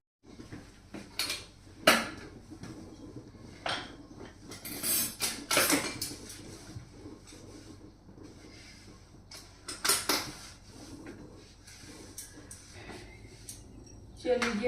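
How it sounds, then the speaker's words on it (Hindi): Dishes, pots and utensils being washed at a home kitchen sink: scattered clinks and clatters of steel and crockery, sharp knocks between quieter stretches, with some faint talk in the background. "चलिए फटाफट बर्तन साफ कर दूं।"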